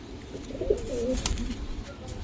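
Giribaz pigeons of the Palla line cooing close by, soft rolling coos that rise and fall over a faint, steady background murmur.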